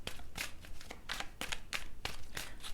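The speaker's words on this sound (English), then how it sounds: "let's go ahead and give these a few more shuffles to clarify this Nine of Swords for you" Tarot cards are shuffled by hand close to the mic, giving a quick run of crisp papery riffles and slaps, about eight bursts in under three seconds, with no talking.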